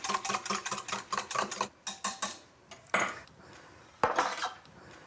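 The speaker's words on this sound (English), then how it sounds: "Let's mix it well." Herb mustard mixture with thyme being stirred in a bowl, a utensil clinking and scraping against the dish in quick rhythmic bursts, then a few louder isolated knocks, close and clear with no talking.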